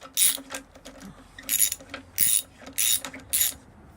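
A ratchet tightens the fork pinch bolt on the lower yoke of a Yamaha Virago, heard as about six short bursts of close, crisp clicking separated by brief pauses.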